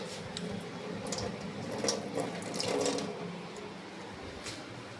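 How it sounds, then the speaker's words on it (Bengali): Tap water runs steadily into a sink as hands are washed in a home kitchen, a continuous close splashing hiss that swells slightly midway, with no talk over it. "হাত ধোবো।"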